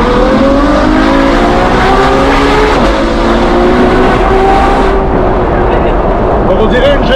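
An 800 hp Ferrari engine revs hard while driving, a loud, sustained roar with rising and falling pitch sweeps as it accelerates and shifts, with voices talking over the engine noise inside the car.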